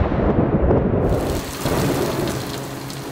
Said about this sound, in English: As summer approached, so did the thunder and lightning.